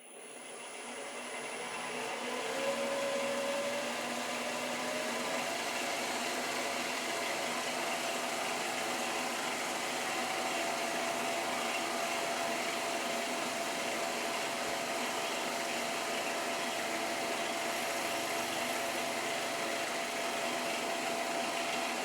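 A milling machine cuts 1mm into a workpiece while making an indicator holder knob, a steady whirring motor drone with a faint cutting whine that holds evenly for the whole stretch.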